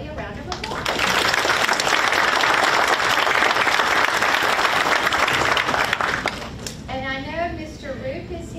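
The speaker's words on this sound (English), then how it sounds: "So let's give Happy Valley a round of applause." Audience applause at a school board of education meeting honouring the Happy Valley school's student artwork, loud sustained clapping from a crowd for about six seconds, then fading as a voice begins speaking.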